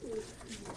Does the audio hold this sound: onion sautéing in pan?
no